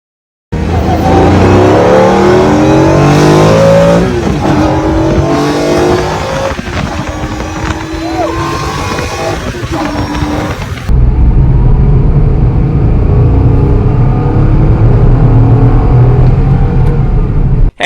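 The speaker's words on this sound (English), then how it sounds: "the complete engine sound is very much on point" Renault Kwid engine revs hard in repeated rising and falling sweeps, loud and close, then drops into a lower steady running note near the end.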